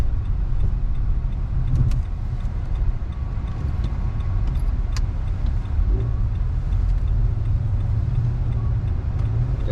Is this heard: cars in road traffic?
yes